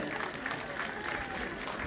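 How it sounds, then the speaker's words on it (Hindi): Applause greets small children from Guru Padmasambhava School, Bomdila, at a monastery festival, a steady, dense clatter of many hands lasting the whole stretch at moderate loudness. "जोरदार तालियों से इनका स्वागत करें।"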